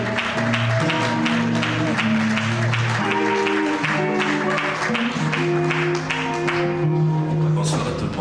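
A church congregation claps and applauds loudly and continuously, mixed with sustained organ-like music and voices throughout.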